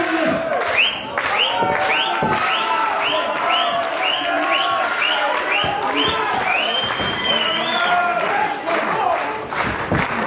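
A wrestling show crowd cheers, chants and applauds loudly and continuously, with rising whoops and shouted voices packed over dense clapping throughout.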